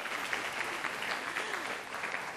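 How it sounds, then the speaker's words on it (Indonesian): An audience at a university-level constitutional debate competition applauds the two debate teams in a televised studio contest. The clapping is dense and steady, held at a moderate, somewhat distant level for the full length with no voices over it. "mari kita berikan tepuk tangan terlebih dahulu untuk kepada 2 tim kita yang ada di sini"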